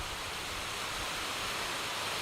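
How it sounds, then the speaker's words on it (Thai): Heavy rain pours down in a dense, even roar of hiss, loud and constant from start to end, with no voices. "ฝนตกแล้วทำไง เนี่ย"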